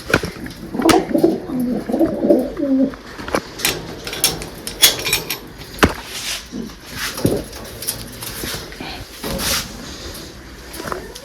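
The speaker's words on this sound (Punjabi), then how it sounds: "ਆ ਕਬੂਤਰੀ ਹੈ ਜੀ ਆਪਣੇ" A female flying pigeon gives a burst of low, throaty cooing up close while being handled and fed almonds, followed by scattered taps and handling noises.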